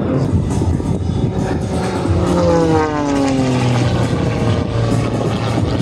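A propeller aerobatic airplane performs at an air show, its loud engine drone sweeping through rising and falling pitch as it maneuvers close overhead, with a steady roar throughout.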